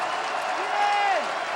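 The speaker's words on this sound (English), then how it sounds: "Crowd trying to get into it a little bit here." Stadium crowd noise at a 2007 college football game between Hawaii and Idaho, a steady wash of cheering and applause beneath a play-by-play announcer's voice.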